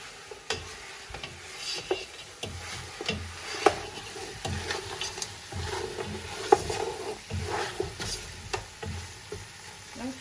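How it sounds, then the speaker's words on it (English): A spoon stirs a pot of African spinach sauce stew as it simmers, giving repeated scraping knocks and clacks against the pot over a soft, continuous sizzle and bubble. "let's go ahead and stir and see how this is going"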